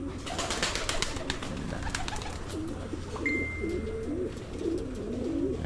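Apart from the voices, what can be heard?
pigeons cooing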